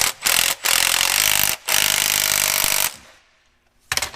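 Impact wrench tightening bolts on a dump truck's hydraulic pump: loud, close bursts of rattling hammering, three runs broken by short pauses, then a quieter stretch and one more brief burst at the end.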